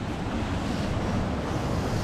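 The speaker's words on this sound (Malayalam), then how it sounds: "വെള്ളം ഒലിച്ച് വരണം നോക്കിയേ." Water rushes steadily along a forest stream near a small wooden bridge, a close, continuous broadband roar with some wind.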